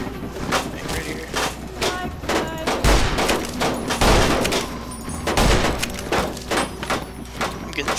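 Gunshots in Fallout New Vegas: sharp, punchy shots crack repeatedly in uneven bursts, some deeper and heavier, fairly loud and close, while someone talks between them.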